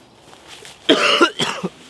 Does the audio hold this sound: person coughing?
yes